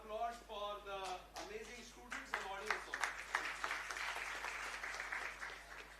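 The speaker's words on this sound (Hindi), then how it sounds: "तो ये तालियां आप सभी के लिए थी." Audience applause at a water conservation event at Bharat Bhavan, Bhopal, following a CSR session; broadband clapping builds in the latter half under a speaking voice, with a steady low hum throughout.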